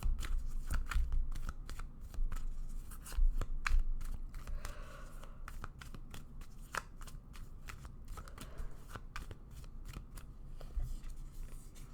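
Tarot cards being shuffled and drawn, with crisp riffling, flicking and snapping at close range, repeating in irregular bursts with no talking.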